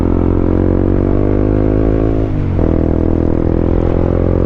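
A Clifford CB150X motorcycle engine drones steadily at strained revs climbing uphill, dipping briefly as it shifts, then pulling on loudly and continuously.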